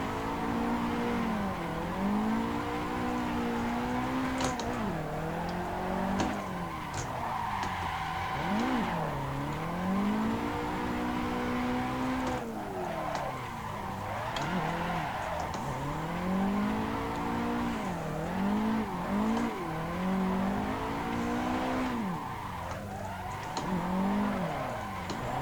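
A race car drifting in Assetto Corsa, engine revving up and down in repeated sweeping swells with squealing tires through long slides, loud and continuous.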